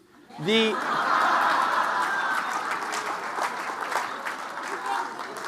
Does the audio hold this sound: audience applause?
yes